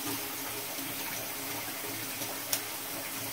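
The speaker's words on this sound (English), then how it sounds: "let's fill some cold water up" Cold water running steadily from a tap to fill a container for Hot Wheels colour-changing cars, a constant close hiss of flowing water with a brief knock partway through.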